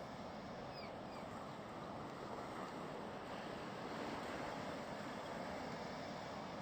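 Sea waves wash onto the shore in a steady, low roar, faint and distant under a constant rush of wind, with no distinct breaks standing out.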